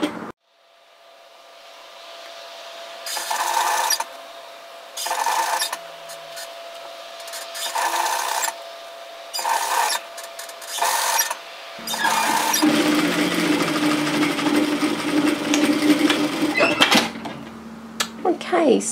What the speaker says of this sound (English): just pop your presser foot down and continue to stitch down